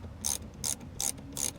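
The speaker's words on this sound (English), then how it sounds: "I grabbed my deep 10mm socket and my ratchet." A ratchet with a deep 10mm socket loosens bolts while a center console is removed from a Dodge Hellcat. Four quick, crisp bursts of clicking repeat at an even rhythm, close and isolated, with no talking.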